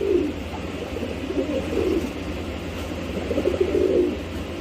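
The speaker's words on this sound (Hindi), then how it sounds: "ये भी 2 बाज है मतलब कबूतर" Soft, low pigeon cooing repeats in gentle phrases over a steady background hum, fairly close and moderately quiet.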